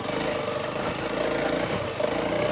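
Honda CRF300L motorcycle climbing a gravel road, a steady loud engine drone with wind rumble throughout, no talking.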